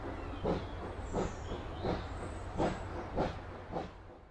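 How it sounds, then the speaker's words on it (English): A steam train chugs along in rhythmic puffs: about six evenly spaced chuffs over a steady hiss, fairly close and with no voices. "The train puffs along."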